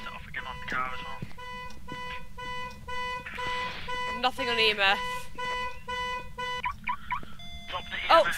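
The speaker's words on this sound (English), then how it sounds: "The alarm's getting set off again on the car as well." A car alarm blares in the horror game Phasmophobia, steady harmonic tones pulsing over several seconds beneath excited players talking over each other.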